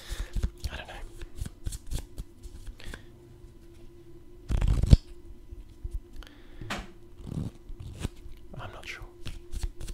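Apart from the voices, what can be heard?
handling Magic trading cards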